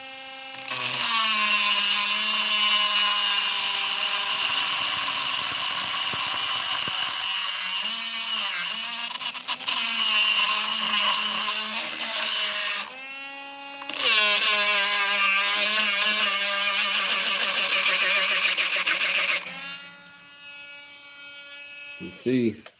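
A power drill bores through a knife handle blank in long, loud, steady whining runs, with a brief pause partway and a short stop near the end.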